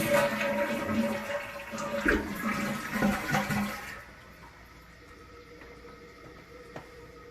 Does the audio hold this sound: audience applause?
no